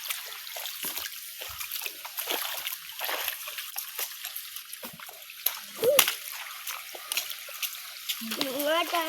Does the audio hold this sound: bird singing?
no